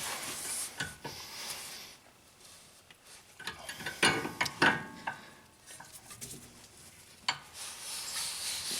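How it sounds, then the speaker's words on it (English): A 19mm wrench tightens a tie rod end on a Honda Accord, giving irregular metallic ratcheting clicks and clanks, close and moderately loud, in short bursts with pauses between them. "taking your 19mm wrench, we'll go ahead and get this thing snug"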